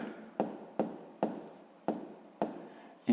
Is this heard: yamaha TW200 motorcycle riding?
no